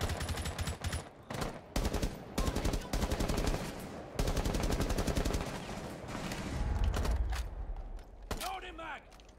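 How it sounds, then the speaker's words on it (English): Sustained automatic covering fire in Rainbow Six Siege, long rapid bursts of close, loud gunshots with brief pauses between volleys, ending with a few mechanical clanks and creaks as the shooting stops. "We need to provide more covering fire for a possible plant."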